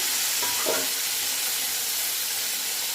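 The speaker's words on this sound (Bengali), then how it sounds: "আমি চিংড়ি মাছের যে রসটা ছিল সেটা জলটা প্রথমে দিয়ে দিলাম" Prawn juice and warm water poured into a hot pan give a steady close sizzle and hiss, with a brief bubbling surge early on before settling into an even frying sound.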